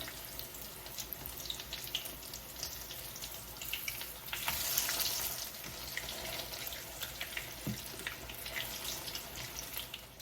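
Zucchini fritters frying in a pan, a steady hiss and crackle of oil throughout, with a brief louder surge of sizzle midway as they are flipped.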